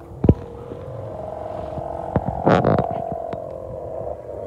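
Humming device on an empet kite droning in the wind, a steady low nasal hum with faint wind noise and a few brief knocks around it.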